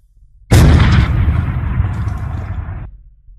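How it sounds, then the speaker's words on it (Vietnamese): A single loud, sudden blast erupts close by, followed by a rumbling roar that sustains for a couple of seconds before cutting off. "bỗng một tiếng nổ vang lên"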